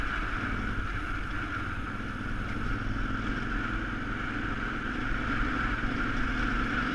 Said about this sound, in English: So you'll hear me short shifting the bike and kind of lugging the engine